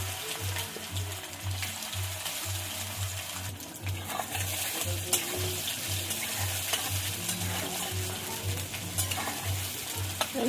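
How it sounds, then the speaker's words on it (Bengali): Cauliflower pakora deep-frying in hot white oil in a kadai, a steady, close sizzle and crackle running throughout with a low rhythmic hum pulsing underneath. "কড়াইতে সাদা তেল দেবো, তেলটা গরম হয়ে গেছে। এবার ফুলকপিটা দিয়ে দেবো।"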